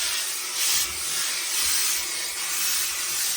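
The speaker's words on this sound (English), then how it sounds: "So let's get a bit of steam in it." Steam hissing onto a felt fedora set on a wooden brim block, a loud continuous airy hiss that swells and eases in gentle pulses, close and alone with no talking.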